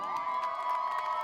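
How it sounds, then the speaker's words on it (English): Spectators at a men's college lacrosse game on Senior Day cheer a goal: a diffuse, distant crowd roar under a steady sustained tone, with faint scattered shouts rising through it. "The crowd gives him a nice round of applause."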